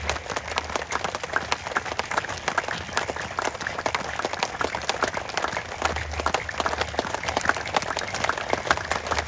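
Dense, rapid hand clapping from a crowd, loud and continuous throughout without pause.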